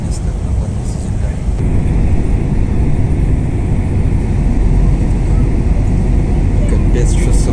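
Loud, steady cabin rumble and rushing air of an airliner in flight while it shakes from side to side, a continuous low roar.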